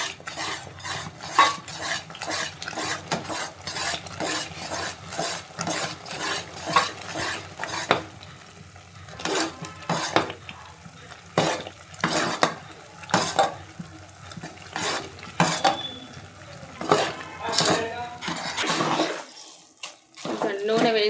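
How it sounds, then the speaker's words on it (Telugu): Mysore pak mixture is stirred in a pan as ghee is added, giving a run of rhythmic scraping and clinking strokes with soft sizzling between them and a voice talking over it at times. "అట్లా నెయ్యి వేసుకుంటూ కలుపుకోవాలి."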